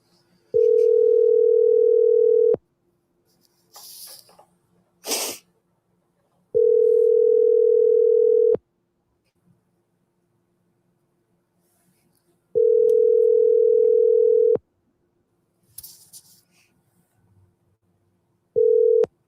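A phone call rings out with a steady, loud repeating tone: four long two-second bursts separated by gaps, while brief muffled sounds fall in between.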